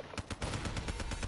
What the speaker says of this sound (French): je prendrai mon pistolet. Comme là.